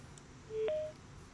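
A single short electronic telephone tone sounds briefly on a call line as the connection drops, faint and alone over a low background hiss.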